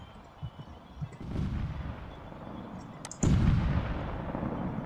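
Two booming cannon blasts, a softer one early and a louder, closer one later, each followed by a lingering rumble over outdoor noise.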